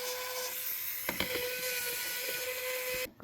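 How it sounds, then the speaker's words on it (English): Screws being backed out of a Lenovo ThinkPad P50 laptop make a steady, thin whine close by, dotted with small clicks and ticks, before cutting off sharply near the end. "So, first you want to unscrew these."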